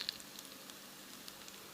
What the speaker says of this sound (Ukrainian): ще хай поки смажаться.